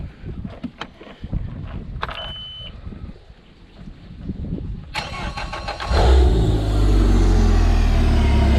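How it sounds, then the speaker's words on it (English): A boat engine cranks over with a few clicks and rough turning, then catches and settles into a loud, steady idle that runs on close by, with no talking. "let's start this boat up"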